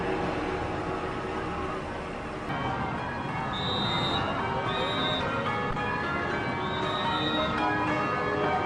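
Bells on a boat in the Diamond Jubilee river pageant ring faintly at intervals over a constant broad wash of outdoor crowd and water noise.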